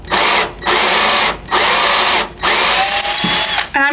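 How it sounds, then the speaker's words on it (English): A power drill boring slowly into an oak-like wooden spindle base for a patriotic flag, heard as four loud, close whirring bursts separated by brief pauses, the last one longer before a short mechanical rattle. "And I'm drilling slow, but you could drill faster if you wanted to"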